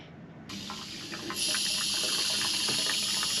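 Fresh water rushes steadily into a boat engine's cooling system, getting louder and brighter partway through as the flow increases, continuous hissing splash with no talking.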